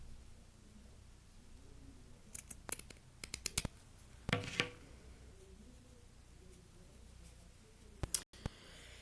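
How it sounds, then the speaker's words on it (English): Scissors snip through burlap during a decorative egg craft, giving a few quick, close, crisp cuts in scattered bursts over a quiet room. "Now I'm going to just make a cut right down the middle of this"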